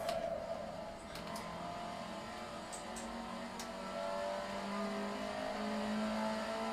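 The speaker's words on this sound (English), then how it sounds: "Just trying out different things on the spot now, like trying to shift down and stuff." Car engine droning steadily, then rising in pitch as it revs during gear shifts, with a few light clicks on top and no talking.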